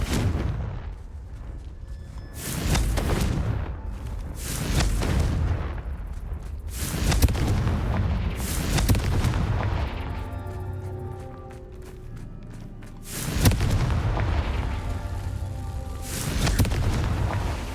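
Blasts from the Confringo fire spell in the game Hogwarts Legacy boom out repeatedly, several loud rumbling explosions spaced a few seconds apart, with ringing tonal effects between them.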